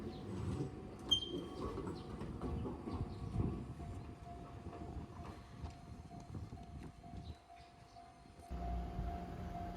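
An Enoden train bound for Enoshima rolls in along the seaside line, a low rumble of wheels with a faint tonal hum and sparse high squeaks, moderately distant and fairly quiet throughout.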